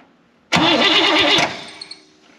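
Buick Electra 225 engine, recovered after a fire, cranking on the starter: a loud, rhythmic whirring churn for about a second, then stopping, followed by a couple of soft knocks.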